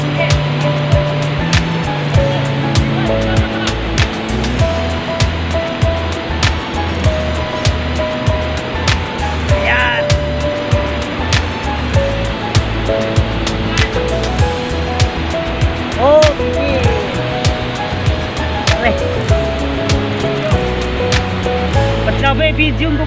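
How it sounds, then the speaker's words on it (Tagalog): Bulubog falls pours in a constant loud rushing roar that fills the scene up close, with people talking over the water. "andito na ang falls"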